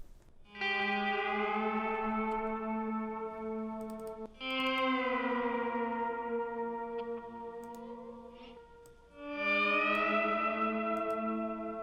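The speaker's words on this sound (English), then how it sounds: "let's add some lap steel" Long sustained lap steel guitar notes slide and swell in three drawn-out phrases, bathed in heavy reverb, with no voices.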